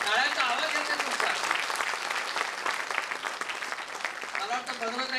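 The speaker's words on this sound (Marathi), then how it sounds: "त्यामुळे सगळ्यांच्याकडे जबरदस्त टाळ्या पाहिजे. टाळ्यांचा आवाज येतो तुमचा" An audience at a literary award ceremony claps together, a dense, sustained round of applause filling the room with voices faintly mixed in.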